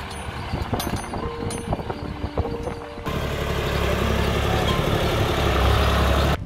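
Tractor engine on a hill road near Manthali in Ramechhap, Nepal: a loud, steady broadband rumble with a strong low drone that swells and holds for the second half.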